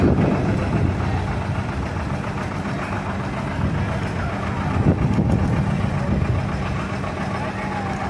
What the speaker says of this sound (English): 1958 John Deere 720